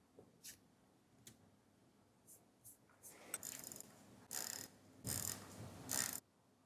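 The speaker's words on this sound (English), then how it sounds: "So I'm going to wind it up with the ratchet wheel" Seiko 7S26 automatic watch being wound by its ratchet wheel, giving faint, close ticking clicks in short bursts that build into louder rapid ratcheting spells.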